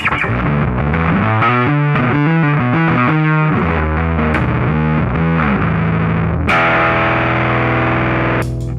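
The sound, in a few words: overdriven bass guitar through amp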